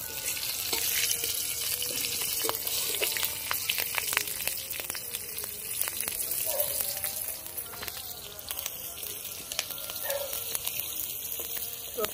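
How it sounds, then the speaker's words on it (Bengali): Dry red chillies and bay leaf crackle in hot oil for a Bengali tempering, a dense, close spitting sizzle with scattered pops and occasional stirring scrapes throughout. "ফোড়নটা একটু ভালো করে ভেজে নেব। চিড়ে রাখা লঙ্কাগুলো দিয়ে দেবো।"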